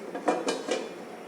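Three quick metallic clinks ring out as a lid is set onto a cooking pot of mola fish on the stove, close and fairly soft, followed by quiet.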